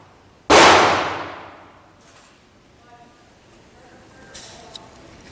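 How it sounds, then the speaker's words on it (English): Springfield XDs pistol fired outdoors at 5 yards, a single sharp loud report with a decaying echo, followed by faint clinks and quiet background noise. "Springfield XDs shots."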